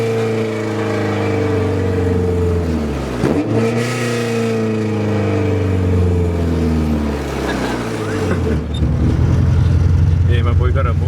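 A loud car engine with an exhaust leak idles and revs, its pitch dropping and rising in a steady, close, rumbling drone, with voices mixed in over it.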